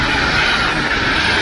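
A passing train near an abandoned farmhouse, a steady loud broadband rumble and hiss filling the whole moment without pause, no voices over it.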